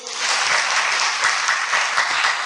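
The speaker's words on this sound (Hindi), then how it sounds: "ताली बजाओ फिर तो" A meditation-camp audience breaks into dense, even applause, loud and close, lasting the whole moment without speech.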